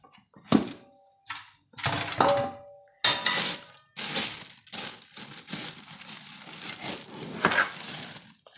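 A metal pot is picked up and handled in a home kitchen before red rice is added to heated water, giving a series of close clanks, scrapes and rattles in irregular bursts.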